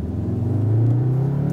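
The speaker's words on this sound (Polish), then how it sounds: "No jest to Mustangowe V8 po prostu na odejściu teraz." A Cupra Formentor VZ plays a synthesized Mustang V8 engine note through its speakers while pulling away, a steady low rumble that rises slightly in pitch, loud and close with no voices.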